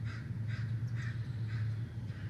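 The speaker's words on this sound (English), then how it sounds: "There's a dawn chorus going on." Birds in a spring dawn chorus recorded on an iPhone, with harsh crow-like caws repeating roughly every half second over a steady low hum, fairly close and alone with no talking.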